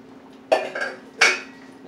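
A utensil clinks twice against a cooking pot while food is stirred, two short bright metallic knocks over a quiet background.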